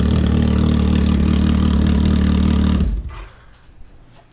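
A Can-Am X3 side-by-side engine fitted with a new exhaust idles and rumbles deep and steady up close, then cuts off abruptly, leaving faint ambient noise.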